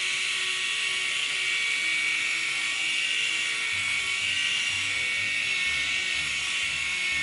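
Bumzzy 2.0 electric body shaver running nonstop, a bright, aggressive high-pitched buzz held close and steady, with a faint low voice underneath toward the end.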